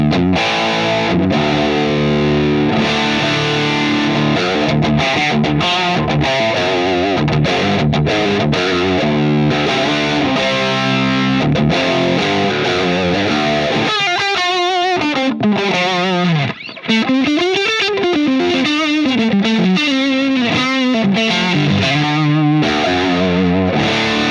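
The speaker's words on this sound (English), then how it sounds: "I am using the post graphic EQ, and here's how it sounds." Electric guitar through a Mesa Boogie Mark VII amp in Mark IV mode, gain at noon with post graphic EQ, loud saturated high-gain riffing of chugging chords and then wavering lead notes with vibrato, continuous and played alone.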